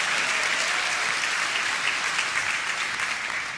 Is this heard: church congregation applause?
yes